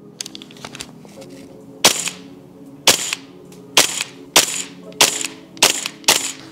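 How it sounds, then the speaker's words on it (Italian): Tokyo Marui MTR-16 gas blowback airsoft rifle firing single shots outdoors, seven sharp cracks with mechanical clacks spaced roughly a second apart, preceded by faint handling noise. "Noi andiamo ovviamente a sparare, io li sparo come capita"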